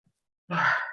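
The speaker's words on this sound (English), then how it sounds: "So I'm just yawning." A soft, breathy yawn rises after a moment of silence, airy and drawn out, close by with no talking.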